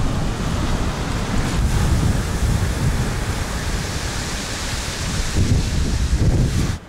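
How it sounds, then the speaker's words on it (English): Ocean waves break along Taiwan's east coast in a loud, continuous roar of surf mixed with wind buffeting the microphone, with no voices. "Bet they've got some pull on them, them waves."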